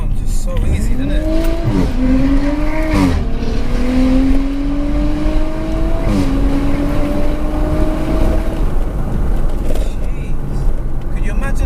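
An Audi RS5 accelerates hard through several gear changes, the engine pitch climbing, dropping at each shift, then climbing again, loud and close under a steady roar.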